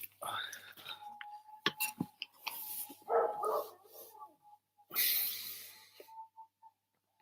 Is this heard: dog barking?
yes